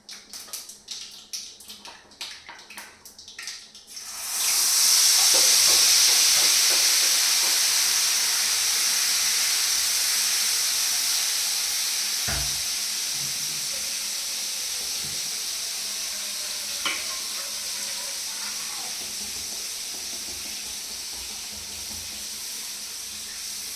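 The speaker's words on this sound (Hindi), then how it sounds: "और मैं इसमें डालूँगी जीरा और राई।" Cumin and mustard seeds hit hot oil for a tempering base for mangodi sabzi. After a few seconds of light clatter, a sudden loud sizzling hiss erupts and then slowly settles over the following twenty seconds.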